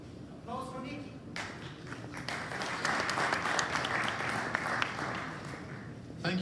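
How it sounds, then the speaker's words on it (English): Applause from a conference audience at NOAH Berlin 2019 greets a performer leaving the stage, a brief voice speaking at first, then clapping swells and holds steady and fairly loud to the end. "It's your first performance. Applause for Nicky"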